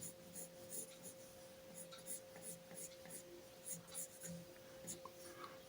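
A pencil draws a box with hatching strokes, making soft, scratchy, rhythmic strokes that repeat at an even pace over a low steady hum.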